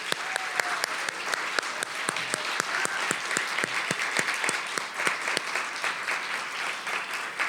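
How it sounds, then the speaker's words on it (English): An audience at a women's financial resilience event applauds the speakers with a loud, dense round of clapping that holds steady for several seconds, individual claps snapping through the wash. "if everyone could just join me in giving them a quick round of applause"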